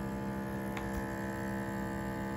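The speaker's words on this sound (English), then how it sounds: "Boom! Seal. Vacuum. Suck in the air, dude." A vacuum sealer packing tuna steaks gives off a steady electric hum and drone with a faint click partway through, alone and fairly quiet.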